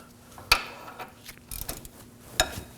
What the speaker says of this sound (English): We're going to remove the caliper assembly using a 19mm socket.